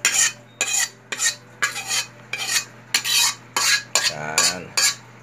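Utensils scrape and clink against a pan while cooked pancit palabok is moved, in a steady series of roughly ten close, fairly loud strokes, with a brief metallic scrape near the end and no talking.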